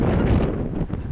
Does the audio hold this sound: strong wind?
yes